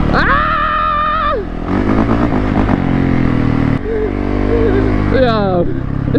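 An 850cc mudding quad on street tires churns through sand, its engine droning loudly and steadily with pitch rising and falling throughout, while a rider shouts over it.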